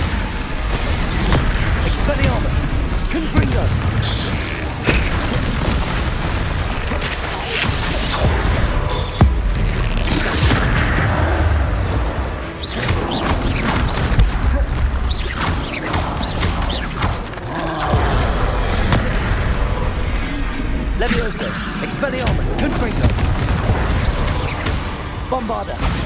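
Spell explosions from Bombarda, Confringo and other combat spells in Hogwarts Legacy burst repeatedly amid clanking mechanisms and crashes, a dense, loud and continuous battle din with booms and pops scattered throughout.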